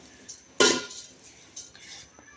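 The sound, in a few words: stirring carrots and milk in a cooking pot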